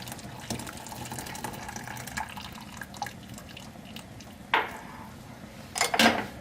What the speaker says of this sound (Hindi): 1 कप में कहवा डाल के तो चेक कर लूँगी।